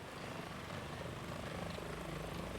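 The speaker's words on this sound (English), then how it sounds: "Is that a chopper I just heard?" A helicopter in the video game Metal Gear Solid 2 drones with a steady rotor thrum and engine hum, constant and moderately distant, with no other sounds.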